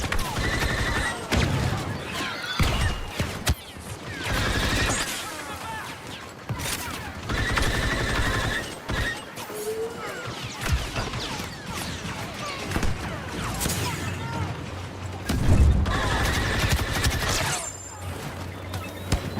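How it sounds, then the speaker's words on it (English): Battlefront II battle sounds from the Star Wars shooter: gunfire and explosive bursts come in repeated loud clusters, with a grenade blast among them, over dense game noise and intermittent speech. "Throwing grenade."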